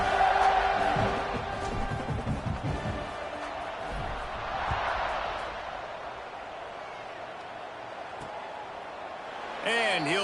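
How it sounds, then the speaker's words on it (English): Stadium crowd buzzing steadily throughout a College Football 26 game, Houston versus Sam Houston, a broad continuous roar with swells, with a commentator's voice talking over it. "this crowd is buzzing after that last score"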